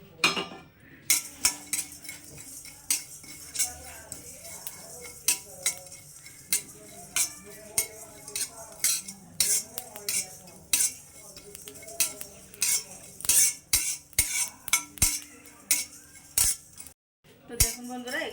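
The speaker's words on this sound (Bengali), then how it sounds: "কড়াইয়ের মধ্যে আমি একটু শুকনো মশলা ভেজে নেব" Black pepper, coriander, cumin and fennel dry roasting in a kadai, heard as repeated metal clinks and scrapes of a spatula against the pan, close and irregular, with no oil sizzle and no talking.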